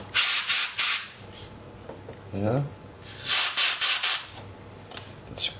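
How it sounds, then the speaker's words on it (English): Compressed-air dust cleaner sprays a potentiometer on an Infinity SM 152 speaker in loud hissing bursts, two clusters of several short blasts, with a brief spoken word between them. "I'm gonna take my dust cleaner. So let's spray the thing"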